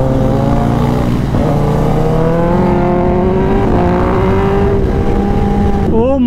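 A Kawasaki ZX-10R superbike engine revs loudly and steadily while riding, its pitch rising and falling in sweeping climbs, with a sharp higher rev burst at the end.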